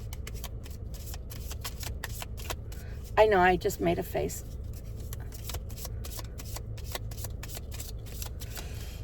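Tarot cards being shuffled by hand, a steady run of soft papery clicks and riffles that continues throughout, with a voice briefly talking over the middle.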